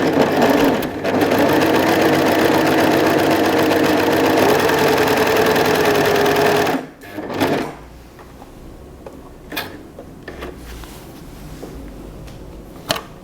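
An overlock sewing machine runs steadily for several seconds, loud and close, stitching a sample seam after a thread-tension adjustment, then stops abruptly, leaving faint handling clicks.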